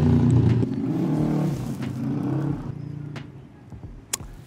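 A motorcycle passes by outdoors, its engine loud and near at first, then fading steadily as it moves away, with a few faint clicks afterward.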